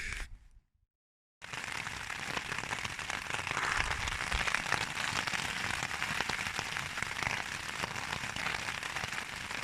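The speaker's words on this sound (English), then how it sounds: "it's absolutely chucking it down now" Heavy rain pours onto a camping tarp and hammock set up as a bivvy beside the River Derwent, a dense, steady drumming patter that drops out briefly near the start, then continues loud and unbroken.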